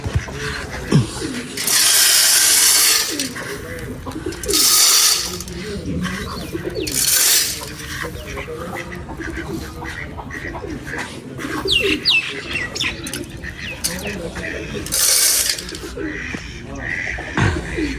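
Pigeons coo in soft, repeated throaty calls close by, mixed with other birds chirping and bursts of hissy noise, while people talk around them.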